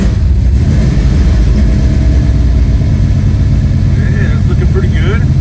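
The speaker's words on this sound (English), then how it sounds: "this is a cold start" A Chevy small block 406 V8 cold-starts and settles into a loud, steady, rumbling idle close by, with no voices over it.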